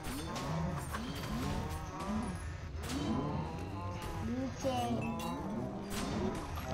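Cows mooing in the video game Minecraft Dungeons on the Red Mushroom Cow level, several overlapping low moos over game sounds and light clinks.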